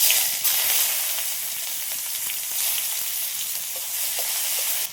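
Chopped onion frying in hot oil with cumin seeds as the base for a snakehead fish curry, a steady broadband sizzle that runs unbroken and fairly loud, with a few faint clicks of a spatula and no voices.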